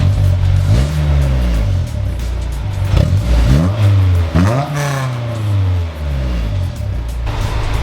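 A car engine fitted with a test pipe exhaust revs repeatedly, climbing and falling in pitch over a deep, loud, rumbling idle heard close up.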